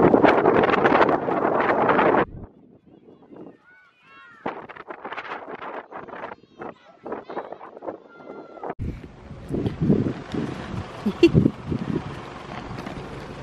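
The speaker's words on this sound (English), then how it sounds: "we are going to have some big gusts of wind. You can probably hear wind" Heavy wind buffets the microphone in loud gusts, a burst at the start and another later, with voices and movement in between.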